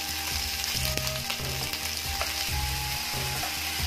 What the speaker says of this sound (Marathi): पाहू शकता शेंगा तेलात आपण फ्राई करून घेतले, तरी हिरव्यागार झालेल्या आहेत.